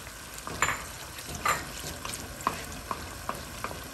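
Onions and other ingredients for Afghan mantoo filling fry in hot oil while being stirred, giving a soft steady sizzle with a few sharper scraping taps of the spoon against the pan.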